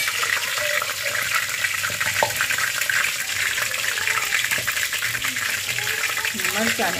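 Cumin seeds hiss and sizzle in hot oil, tempering a pot of boiled urad dal in a home kitchen; a steady, dense crackling fills the whole stretch, with faint voices in the background.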